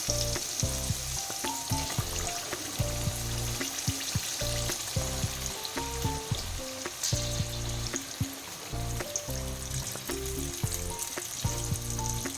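Mango pieces sizzle and fry steadily in mustard oil for a sweet-sour pickle, with repeated stirring clatters and scrapes in the pan. The sound is close and continuous, and no voices are heard.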